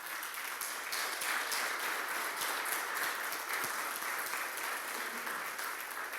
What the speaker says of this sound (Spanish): Denle un aplauso de alabanza.